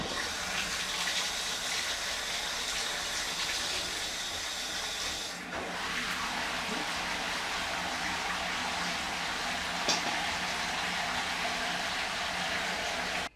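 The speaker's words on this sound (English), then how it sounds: "we're just going to fill the bath up about a third to a half full" Bath being filled from the tap during a bathtub fitting job: a continuous gushing stream of running water pours steadily for the whole stretch, with a brief shift in tone midway as the flow settles into the tub.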